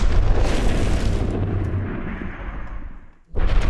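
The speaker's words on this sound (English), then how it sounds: "Another explosion." A heavy cinematic explosion sound effect from a redesigned Oppenheimer scene: a loud, sustained low rumbling blast that rolls on for about three seconds, cuts briefly to near-silence, then a second booming impact hits.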